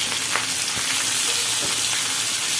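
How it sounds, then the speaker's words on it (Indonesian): Red and green chillies, anchovies, green tomato, galangal and bay leaves frying together in a pan while being stirred, giving a dense, loud, continuous hissing sizzle with a few soft scraping strokes. "Kita masukin semuanya dan kita aduk-aduk."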